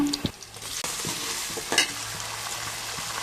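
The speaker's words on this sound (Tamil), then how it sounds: "வெங்காயம் பூண்டு நல்லா வதங்கணும்" Onion, garlic and tomato sautéing in a pan for a fish curry, a steady close sizzle with a few sharp clinks of a spoon stirring against the pan.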